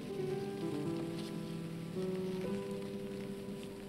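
Steady rain patters on a surface throughout, a continuous wash of drops with some tonal hum beneath, no voices.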